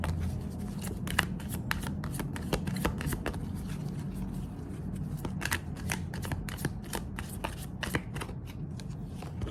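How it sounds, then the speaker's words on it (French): Oracle cards are shuffled by hand in a continuous close riffling patter with rapid irregular snaps and flicks, no voices over it. "Alors, on va prendre quelques cartes de l'univers."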